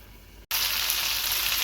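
Chicken frying and being turned in a pan, a loud, dense sizzle that bursts in after a split second of quieter hiss and then holds steady and close.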